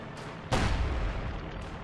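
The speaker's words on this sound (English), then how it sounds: "I might be able to use sector artillery on it" Sector artillery strike in Company of Heroes 2 during the Encirclement at Smolensk co-op mission: a single sharp, loud shell impact lands suddenly, followed by a long rumbling decay, with no talk over it.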